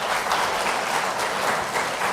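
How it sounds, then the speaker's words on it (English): Steady, even applause from an audience at an annual general meeting, a dense wash of clapping with no speech. "Ladies and gentlemen, a round of applause,"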